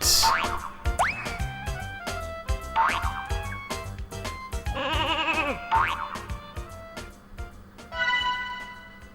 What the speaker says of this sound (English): this sheep has a special attack where if you press the jump button again in mid-air, he does like a drill dive